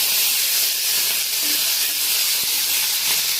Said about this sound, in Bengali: কড়াইয়ে দিয়ে দিয়েছি তেল, তার সঙ্গে আমি জিরা ফোড়ন দিয়েছি, সঙ্গে দিয়ে দিচ্ছি কয়েক টুকরো কাঁচামরিচ